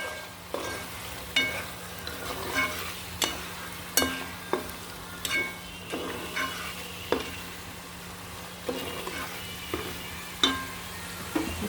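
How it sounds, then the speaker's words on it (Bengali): Tomatoes and green chillies fry in a cooked-down spice masala over a soft constant sizzle, while a utensil knocks and scrapes the pan in a steady rhythm of sharp, close hits. "এর মাঝে আমি দিয়ে দিচ্ছি টমেটো কাঁচামরিচগুলো।"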